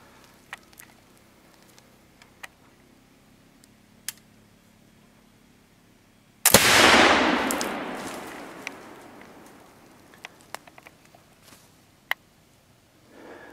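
A single flintlock rifle shot fired while hunting outdoors, a sudden loud boom halfway through that trails off in a long fading echo, with faint rustles and clicks before and after.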